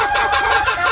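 Lazy Gilmore chickens on a farm, a bright strained rooster-like crow or loud clucking held steadily through a short burst, fairly close and filling the whole moment with no talk.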